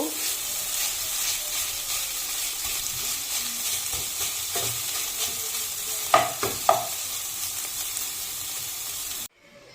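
Leafy greens sizzle and fry in a pan while being stirred, a continuous close hiss broken by a few sharp scraping strokes from a spatula partway through, then the sound ends suddenly.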